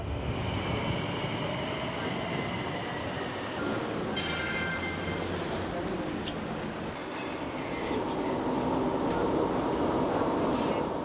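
A Metro Express light rail train in Mauritius rumbles steadily along the track with a continuous loud roll, brief wheel squeals and clicks partway through, and no voices.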